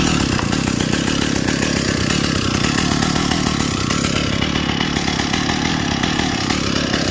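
A STIHL 028 Wood Boss chainsaw with a 47cc two-stroke engine runs at a steady buzzing idle close by, loud and continuous with no talk over it.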